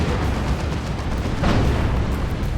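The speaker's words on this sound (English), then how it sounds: "It's a rocket run." Rocket run strikes in Dawn of War 2 land as a dense, continuous rumble of blasts with one heavier burst partway through, loud and alone.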